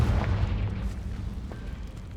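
Confringo blasting curse explosion in Hogwarts Legacy, a deep booming blast that rumbles heavily at first and then fades into a lingering low roar over about two seconds, with no talking.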